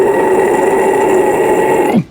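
One sustained, gritty low vocal scream in the toilet-bowl style, made with a dropped jaw and open mouth. It holds steady and loud for about two seconds, then cuts off abruptly. No one speaks.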